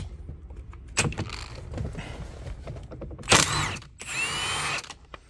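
A power tool working a nut loose on a BMW 3 Series E90 steering wheel: a short whir, then a loud burst of rattling impact, followed by a steady high whine of the tool before it stops, with no talk.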